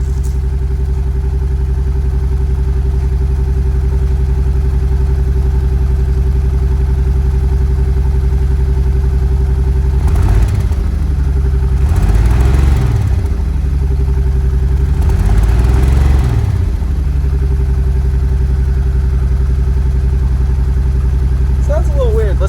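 A turbo Datsun engine from an abandoned restoration idles with a steady low drone, then revs up in three rising-and-falling swells before settling back to idle, close by.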